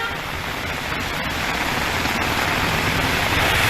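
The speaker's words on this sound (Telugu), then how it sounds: "హైదరాబాద్ తో పాటు పలు జిల్లాల్లో రాత్రి నుంచి వాన ఏకధాటిగా కురుస్తుంది" Heavy, unbroken rain falling over Hyderabad during a downpour, a loud, dense wash of noise that holds steady and swells slightly toward the end, with no speech.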